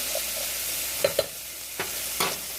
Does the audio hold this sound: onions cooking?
yes